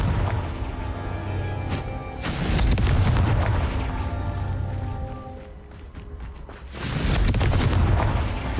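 The Confringo explosive spell cast in the Hogwarts Legacy video game during a wand mastery battle, loud close booming blasts rolling in twice with deep rumbling tails amid a dense battle soundscape.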